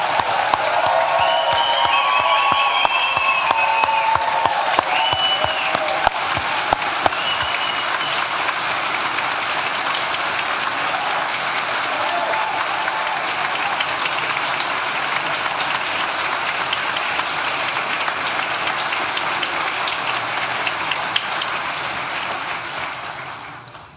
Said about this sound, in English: one last rousing round of applause for all of our graduates